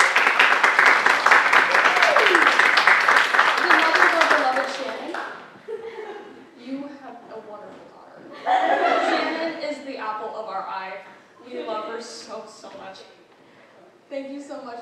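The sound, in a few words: audience applause at a theatre awards ceremony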